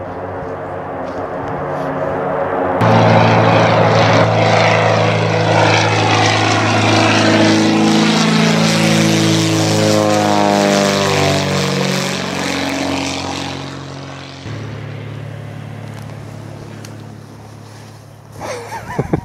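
A small propeller plane carrying a pilot on a Brooks Range Dall sheep hunt trip roars loudly close by, its engine drone rising and shifting pitch as it passes and flies off, then fading into wind.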